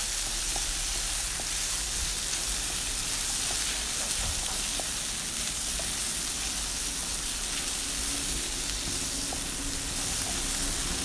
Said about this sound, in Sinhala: තක්කාලි ටික දාගෙන ඒක තව කලවම් කරන්න.